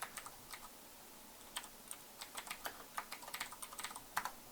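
Folder name typed on a computer keyboard: a quick, uneven run of light key clicks, close and quiet, with no talk.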